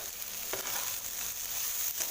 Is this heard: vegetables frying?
yes